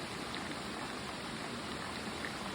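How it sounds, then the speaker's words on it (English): Water trickles and splashes steadily as a liter is filtered on an Appalachian Trail hike, a continuous close rushing hiss with no talking. "liter of water being filtered."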